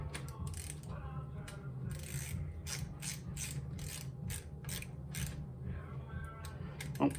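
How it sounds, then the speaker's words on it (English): A ratchet wrench clicks in quick bursts of rapid pawl ticks while loosening parts during the teardown of a 1992 GT Avalanche bicycle, close and moderately loud over a low background hum. "A ratchet."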